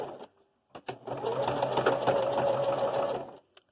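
A sewing machine stitching fabric: a few sharp clicks, then a steady, close mechanical whirr for about two and a half seconds, stopping with another brief click near the end.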